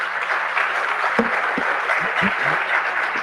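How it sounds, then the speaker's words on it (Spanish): An audience at a Latin American church conference gives the priest a warm round of applause. The dense, even clapping is fairly loud and lasts the whole few seconds, with a faint voice underneath. "Ahora sí le damos un cordial aplauso al padre"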